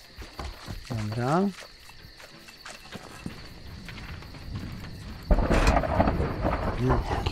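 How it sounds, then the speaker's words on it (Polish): A thunder crash in the horror video game The Beast Inside, a sudden heavy rumbling boom that comes late and rolls on under a faint steady rain, with a voice heard earlier. "Jaki fajny piorun."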